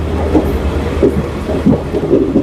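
Intercity Express train between Guwahati and Ledo rolling along the rails, a steady low rumble with recurring dull clunks from the wheels, continuous and fairly loud throughout with no talking.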